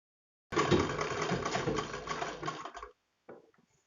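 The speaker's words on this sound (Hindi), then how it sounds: "जड़ में एक सिलाई लगाते हुए पूरे पाइपिंग को फिनिशिंग" A sewing machine stitches piping along a kurti neckline in one continuous close rattling run of about two seconds, then stops, followed by a short faint burst.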